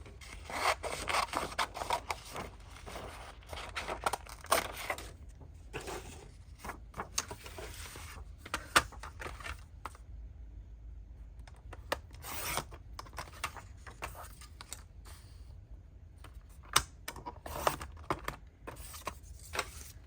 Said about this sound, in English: Again, going in with my scissors.